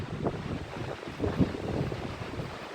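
Strong storm wind blows through swaying trees, a gusty, rumbling roar that buffets the microphone in uneven surges, continuous and fairly loud with no talking.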